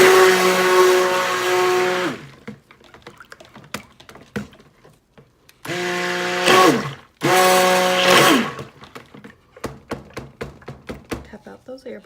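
An electric blender buzzes loudly through soap-making oils mixed with kaolin clay and colloidal oats, running in three close bursts with quiet gaps and small tapping and clicking noises between them.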